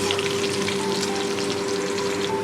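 Chopped garlic cloves fry in hot oil for a spring onion vegetable dish, a loud continuous crackling sizzle with a steady hum underneath, unbroken for the whole stretch.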